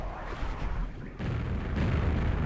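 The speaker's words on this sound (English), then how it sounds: "Goddamn Sidewinder missile." A homing Sidewinder missile explodes in a Quake ROM hack, one heavy rumbling blast that dips briefly and then swells into a louder, sustained low boom, close and without talk.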